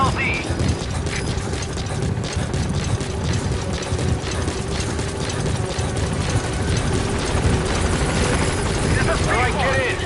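Helicopter arriving at a landing zone in Metal Gear Solid V, a close, steady rotor chop with mechanical rattling under it and voices speaking over the noise.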